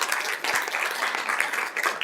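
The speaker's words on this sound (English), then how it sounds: "So you can give him an applause even though he's in New York City." Audience applause at a community awards ceremony, a crowd clapping steadily and fairly loudly for the whole short stretch with no voices over it.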